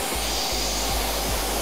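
A hair blow dryer blows hot air in a steady, loud, close whoosh with a constant motor hum, its airflow briefly shifting a few times as it is aimed at the hair.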